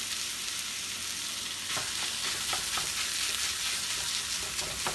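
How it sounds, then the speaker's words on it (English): Ground beef, 80-20, fries steadily in a pan with onions and garlic, a constant close sizzle broken by scraping, clicking stirs as the meat is broken up; no one speaks. "So I'm just gonna break this up and I'm gonna let it cook along with the onions and garlic."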